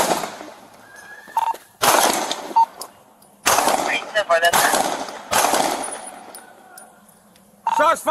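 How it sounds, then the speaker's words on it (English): Gunfire during a police shootout in a domestic disturbance, heard as several loud, harsh bursts of shots alternating with quieter gaps, mixed with shouting voices and radio chatter. "Shots fired! Shots fired!"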